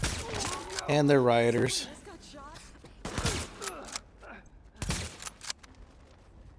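Gunfire in The Division video game: a few sharp shots crack out between stretches of someone talking, fairly loud and close.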